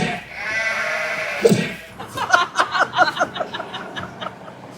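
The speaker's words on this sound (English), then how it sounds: "You might hear a goat Thank you. crying in the background here" A goat bleats repeatedly in a wavering, stuttering series of cries in the background near a burger restaurant, preceded by a steady hum of ambient noise.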